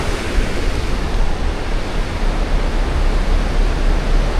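Strong wind roars across the deck of a moving ship in the Baltic near Helsinki, a dense, continuous broadband rush buffeting the microphone, loud and unbroken throughout.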